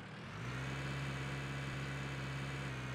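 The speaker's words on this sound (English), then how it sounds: "If I can get back in my tractor." Tractor engine in the farming game Cattle and Crops, starting up and then idling with a steady low drone that holds close and even to the end.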